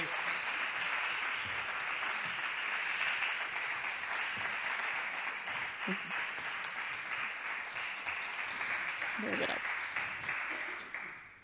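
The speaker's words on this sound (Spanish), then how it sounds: "no voy a cortar el aplauso, eh, que es muy merecido además" Sustained applause from a large audience after a lecture, steady and dense throughout, fading slightly at the very end.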